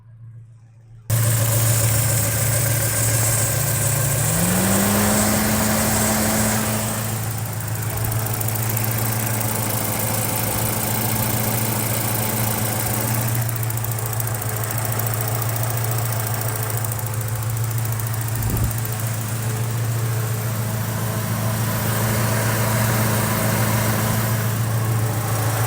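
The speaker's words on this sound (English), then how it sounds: "So here we go, getting in close to the engine here at idle." A 1986 Porsche turbo engine, rated at 217 horsepower, idles steadily up close with a constant low drone, a brief rising whine partway through and a single dull knock later on.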